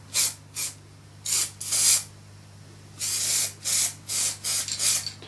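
Repeated hissing bursts of an aerosol spray paint can coating a filled, mounted trout, short and longer sprays separated by pauses, close by with a low steady hum underneath.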